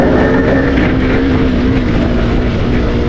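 Fully modified Husqvarna Svartpilen 250 motorcycle with under-belly exhaust, engine droning steadily and loudly throughout with a continuous hum and no pauses.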